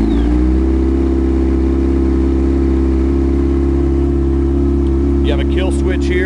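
A Yamaha Attak 150hp snowmobile engine cranks and catches, then settles into a loud, steady idle hum that continues throughout, with a voice briefly speaking near the end.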